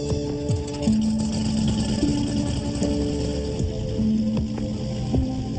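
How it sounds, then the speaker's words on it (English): A small propeller plane's engine starts and settles into a loud, steady, buzzing run with shifting tonal hums and a few short clicks, close by and with no voices. "Insert the ignition key, clear the propeller area, and then start the engine"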